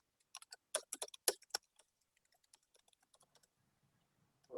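Close, quiet typing on a computer keyboard: a quick burst of sharp key clicks that thins into scattered, softer taps in an otherwise silent room.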